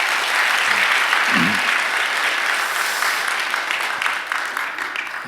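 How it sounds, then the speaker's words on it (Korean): A church congregation at a Wednesday worship service claps loudly in a dense, sustained round of applause that slowly thins toward the end, with a brief low voice or two underneath. "크게 박수 한번 해주세요"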